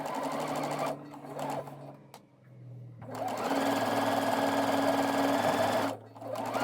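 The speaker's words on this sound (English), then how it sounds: "I'm just going to sew round very, very carefully" Sewing machine stitching around collar pieces for a Missoni-inspired co-ord, running in steady bursts with a brief pause in the middle, close and clear with no talking.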